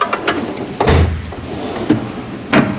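A drawer slides open and shut on a Snap-on tool roll cart, giving a few loud metallic rolls and clunks in separate bursts, with quieter rattles in between.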